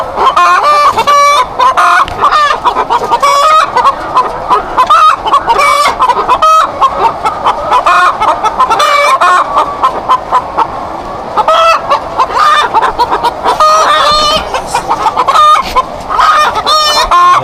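Dense flock of chickens in a large egg-laying poultry farm in Romania, loud overlapping clucks and squawks with occasional crowing, continuous and close, no talking.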